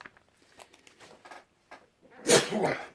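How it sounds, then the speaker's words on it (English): Soft shuffling and small noises precede one loud, sudden sneeze burst near the end, close to the microphone. "I'm going to sneeze"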